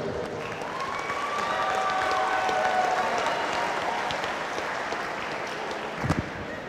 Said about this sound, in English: Ladies and gentlemen, a round of applause for both fighters.